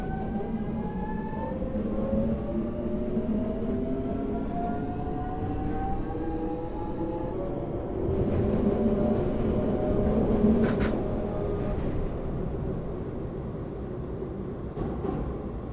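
A Hankyu 8000 series train pulls away in the BVE5 train simulator, its motor whine rising steadily in pitch over a continuous rumble, with a brief clatter of rail joints midway.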